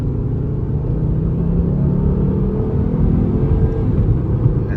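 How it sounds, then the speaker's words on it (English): A 2011 Volvo C30 with a turbocharged engine accelerates in a low, steady rumbling drone, heard from inside the car with road noise and a rising whir beneath it. "Got a strong turbocharged engine."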